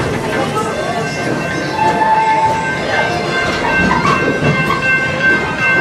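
A Busch Gardens ride train rolls into its Nairobi station with a steady rumbling clatter, while an operator's amplified voice speaks over the train noise.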